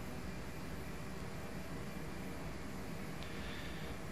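An Embraer E170 cruises at flight level 360 in a flight simulator game, its cabin-like engine roar a steady, faint broadband hiss with no talking.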